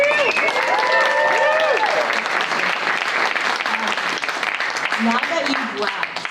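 Sustained applause from an audience at a Q&A panel, loud dense clapping filling the room and slowly tapering, with a few voices briefly audible early on.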